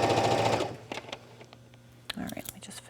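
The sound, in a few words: sewing machine stitching fabric with orange thread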